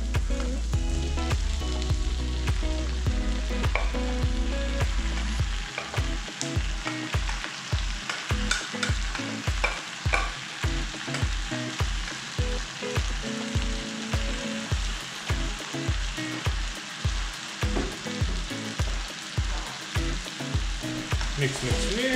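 Cuttlefish pieces fry in a pan with a loud, steady sizzle, broken by a regular rhythm of stirring strokes against the pan, with no talking.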